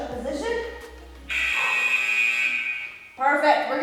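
A workout interval timer sounds during a bodyweight core session, a loud steady electronic beep-like alarm tone holding for about two seconds, with a second burst starting near the end, following a quieter stretch with speech-like sound.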